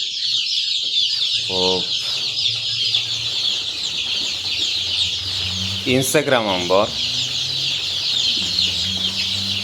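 Black Andijan chicks for sale fill the space with dense, continuous high peeping close by, while a few short voices speak over it briefly.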